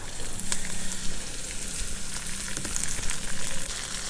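Green peas frying in hot oil with onion and garam masala for pulao, a steady close sizzle with dense crackling and occasional stirring clicks, no voices.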